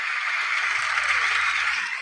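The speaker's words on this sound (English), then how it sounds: "cheer, baby, the cheer." Crowd cheer sound effect: a steady, dense wash of cheering and applause noise sustained at even loudness for about two seconds, with no speech over it.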